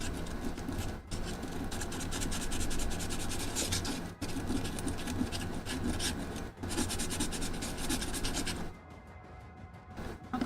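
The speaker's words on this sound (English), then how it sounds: "Yeah, I guess I could just sand this spot" Sandpaper rubbing back and forth over a spot of hardened hot glue, a steady close-up rasping scrape broken by a few brief pauses.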